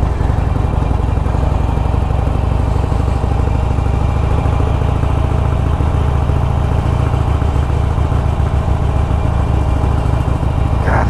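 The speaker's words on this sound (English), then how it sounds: "That stock exhaust is so funky sounding." Stock exhaust of a Harley-Davidson Roadster 1200 motorcycle, a loud, steady, close rumbling idle with an uneven lumpy pulse that holds throughout, with a slight rise near the end.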